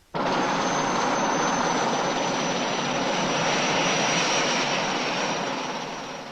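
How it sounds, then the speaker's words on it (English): A loud, steady Army helicopter engine roar with a high whine over Morocco's front lines, constant throughout and tapering slightly at the end. "I was airlifted to Morocco's front lines by Army helicopter."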